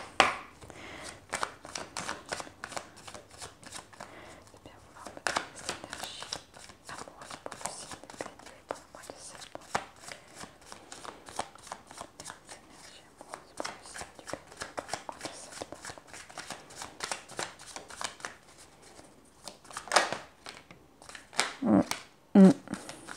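Oracle cards shuffled by hand for a reading, a long run of close, quick riffling bursts with brief pauses between, a few louder flicks near the end.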